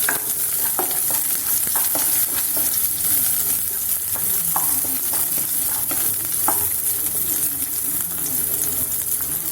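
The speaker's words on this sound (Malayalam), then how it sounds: "1 ടേബിൾ സ്പൂണോളം വെളുത്തുള്ളി നന്നായി ഇളക്കി കൊടുക്കുക." About a tablespoon of garlic is stirred and fried in a pan, giving a loud, continuous, hissing sizzle with repeated scrapes and taps from the stirring utensil, close up and without speech.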